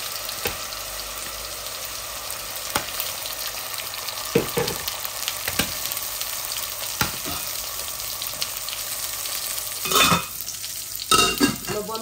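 Onions frying in a pan with a splash of water added, sizzling steadily while a utensil stirs and scrapes in repeated bursts, with louder clattering strokes near the end.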